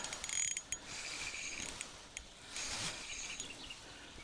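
A Crazy Fish Arion 742UL spinning rod's reel winding in a perch or pike on thin 0.4 line, with quiet whirring, clicking mechanical cranking in short uneven bursts at close range and faint background noise.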